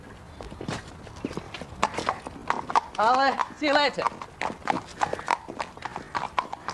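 Horse hooves clip-clop on a hard surface near the pub in an English countryside village, a steady walking rhythm heard close by beneath talking voices, with a brief whinny-like sound in the middle.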